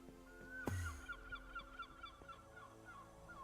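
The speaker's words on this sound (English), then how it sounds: "I always forget how loud seagulls are in this game until they're in my base, making seagull-y noises" Seagulls in a Minecraft modpack game let out a string of repeated honking, goose-like calls, fairly loud and close, following a sharp thump near the start.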